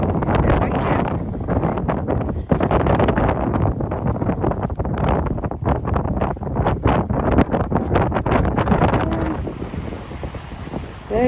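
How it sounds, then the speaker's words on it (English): Strong wind buffets the microphone on a cold, windy day by open water with no whitecaps, a steady loud roar with gusty rumble throughout and no talking. "cold and windy."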